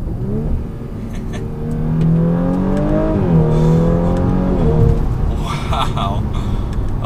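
A 2019 Audi RS5 Sportback with a 2.9-liter twin-turbo V6 accelerates from inside the cabin, its engine note rising steadily in pitch, moderately loud, with a voice speaking over it.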